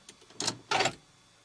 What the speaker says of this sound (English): Put the key in here